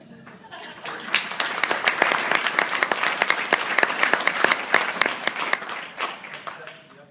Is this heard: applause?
yes